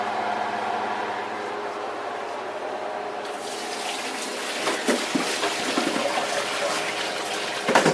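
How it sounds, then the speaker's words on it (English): Cooked potatoes, carrots and celery being drained from a pot, water pouring and splashing steadily into a sink, growing louder and more gushing toward the end. "Let me drain these vegetables."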